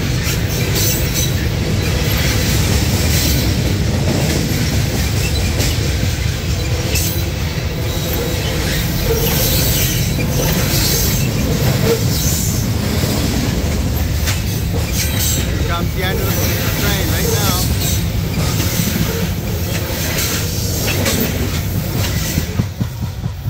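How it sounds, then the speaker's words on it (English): A fast-moving train crosses a shaking bridge over the Allegheny River, a loud, continuous roar of rolling wheels and clattering rail cars with occasional squeals, sustained at close range throughout. "That was a fast-moving train, but luckily I caught it."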